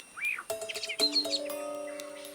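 A mimicking bird copies a blackbird's song in a short burst of varied fluty whistles and chirps, close and clear, ending on steady sustained tones.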